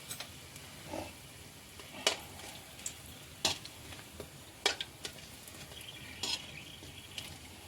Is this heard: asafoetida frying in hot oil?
yes